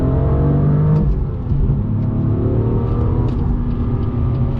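A 2018 BMW M2 pulls hard in second gear, its engine note rising steadily as it accelerates, a loud, continuous close-up rumble heard from inside the car with no one talking.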